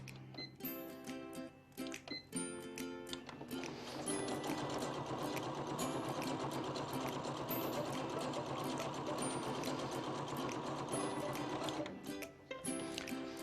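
An SS 2599 sewing machine stitches a buttonhole (satin-style) stitch with a fast mechanical whirring chatter, first in short start-stop bursts with clicks, then one long steady run before stopping, fairly quiet and close.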